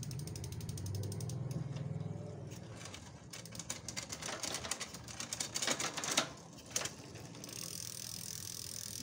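A Japanese-market folding 700c road bike with a 3-chainring, 7-cog drivetrain ticks steadily as the freewheel ratchets, its clicking rising to a denser, louder burst of mechanical chatter mid-shift before settling back to an even whir.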